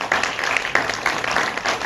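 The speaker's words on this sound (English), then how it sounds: "I think TK deserves a round of applause" An audience at a grand movie premiere claps in a dense burst of applause, close and lively, with a few sharper claps standing out and no clear voices over it.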